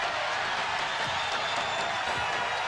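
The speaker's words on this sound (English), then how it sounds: "the Bulls now hearing it from the crowd and on their feet at the United Center" Dense crowd noise fills the United Center during Game 1 of the 1996 NBA Finals between the Bulls and the Seattle SuperSonics, a steady loud roar of fans on their feet with scattered claps.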